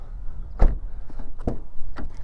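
A new Honda Prelude coupe's door slams shut with a solid, close thud, followed by a couple of lighter knocks against quiet background noise.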